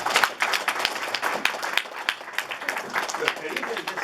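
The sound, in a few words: audience applauding at networking mixer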